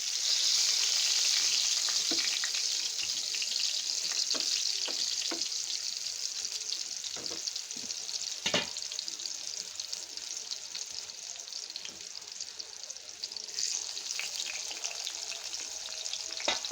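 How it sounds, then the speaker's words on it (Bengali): Eggplant slices sizzle in hot oil after being flipped, a steady close hiss broken by occasional sharp pops and crackles throughout. "আমার বেগুনের এক পিঠ ভাজা হয়ে গেছে,"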